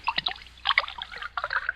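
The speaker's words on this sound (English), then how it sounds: "pour me another glass of wine" Wine trickling into a glass as a radio-drama effect: broken, splashy pouring in three short bursts, close and fairly loud, with no voices over it.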